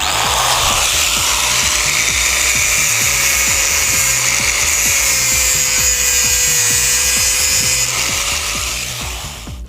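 A power tool cuts through an Android mobile phone with a loud, sustained grinding whine and a rapid, rhythmic chatter underneath, running nonstop before easing slightly at the end.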